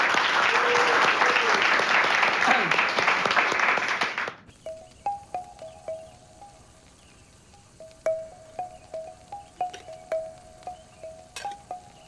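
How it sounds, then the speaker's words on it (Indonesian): A group bursts into loud applause for the village officer, dense clapping for about four seconds that cuts off abruptly, leaving quiet ambience with short chirping calls. "Tepuk tangan buat Babin kita."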